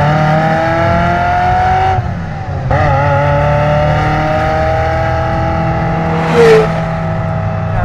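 A steady, harmonic-rich engine drone from a Ferrari F355 Spider while driving, with brief dips as gears shift and a rising whine near the end.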